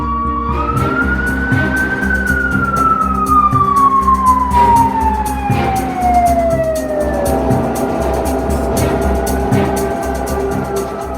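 A mine rescue team's emergency vehicle pulls away with its siren wailing loudly and steadily, the rising and falling tone sliding over heavy engine rumble and road noise for the whole stretch.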